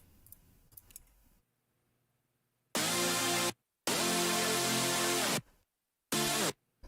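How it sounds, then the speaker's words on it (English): A bright, buzzy super saw wavetable synthesizer plays in three loud sustained bursts separated by sudden silences, each chord held for about a second, with a few faint clicks before the first. "really, really solid wavetables for saw sounds, like super saws."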